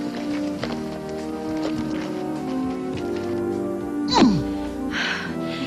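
Horses shift and clop nearby, with soft hoof sounds and a brief high whinny partway through.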